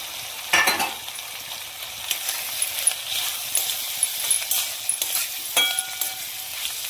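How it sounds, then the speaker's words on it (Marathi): Veg biryani ingredients, peas among them, being stirred in a pan, with a steady close sizzle, scraping strokes and occasional light clinks of the spoon against the metal, no voices. "आणि छान याला एकदा मिक्स करून घेऊया"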